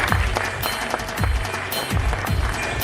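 Applause from a seated audience at a Marathi community talk event, a short burst of steady, fairly loud clapping heard close throughout.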